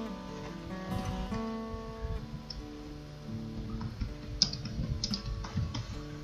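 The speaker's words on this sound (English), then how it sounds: "So to make a comment, you would just type in your comment here." Quiet keystrokes on a computer keyboard while a comment is typed, with light irregular clicks over a faint background of music.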